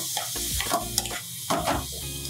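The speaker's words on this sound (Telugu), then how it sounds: "పచ్చివాసన పోయే వరకు వేయించుకోండి." Onions and tomatoes fry in oil in a pan, giving a soft sizzle under repeated scraping and stirring sounds, close by.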